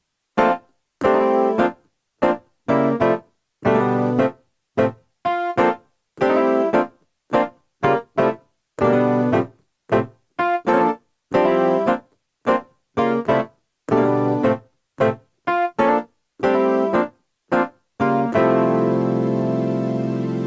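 Short, crisp cluster chord stabs played one after another in a steady rhythm, separated by silences, ending on one held chord that rings on.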